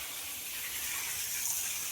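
Water sprays steadily while a cow is washed on a dairy farm, a continuous close hiss without breaks or voices.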